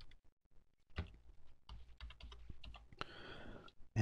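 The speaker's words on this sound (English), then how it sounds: "I'll type comma and I'll type that same number" Numbers typed on a computer keyboard, a string of light, close key clicks in uneven bursts with short pauses between them, ending on a firmer keystroke.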